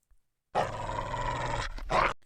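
A huge shaggy dog growls close up, one long rough low rumble followed by a shorter, harsher burst, with no talking.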